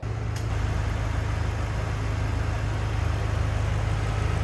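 A 2006 Ford Mustang Shelby GT-H with a 4.6 liter engine idles steadily and close by, giving a constant low, even rumble with a fast regular pulse and no talking.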